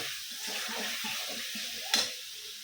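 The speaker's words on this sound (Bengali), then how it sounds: "এই যে আলু দুটো আমি সুন্দর করে কষাই নিচ্ছি" Two potatoes sautéing in a pan, a quiet, steady sizzle with soft stirring and one brief clink near the end.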